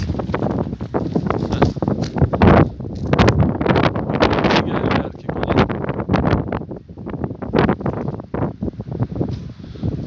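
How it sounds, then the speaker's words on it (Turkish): Strong, gusting wind above the sea buffets the microphone in loud, continuous roaring bursts, with rustling in the background and no clear voices. "Ciddi rüzgar var arkadaşlar."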